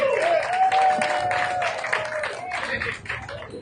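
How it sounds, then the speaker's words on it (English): Crowd applause for the winning skipper of a sailing match race at the Congressional Cup regatta, steady clapping across the whole stretch with a faint whistle or cheer riding on top. "Give him a round of applause, Dave Hood, folks."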